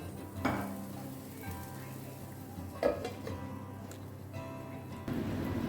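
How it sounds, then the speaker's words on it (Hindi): Food fries in oil in a pan in a restaurant kitchen, giving a faint, steady sizzle with occasional utensil clinks and pan scrapes. "ऑयल डाल के इसको और 1-2-3 मिनट के लिए इसे पकाते हैं"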